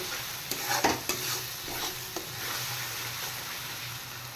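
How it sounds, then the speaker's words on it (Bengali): Spice paste with ground mustard and two green chillies fried and stirred for a fish curry: a spoon scrapes and knocks against the pan in a few sharp strokes over a steady low sizzle. "এবার মশলাটা আর একটু ফ্রাই করব।"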